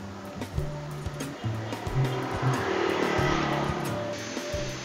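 A small two-stroke grass cutter engine rises from a rough idle into a sustained high rev as the throttle cable is pulled by hand, then drops back, loud and close with no talk.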